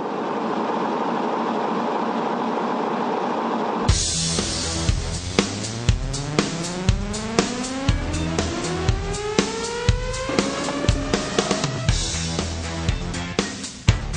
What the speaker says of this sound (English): The only sound left is the sound of the tires.